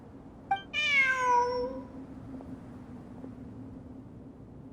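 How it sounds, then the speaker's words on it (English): A cat in Genshin Impact gives a single clear meow, near and loud, sliding downward and fading over a low hum of game ambience with no talking. "Look! A cat!"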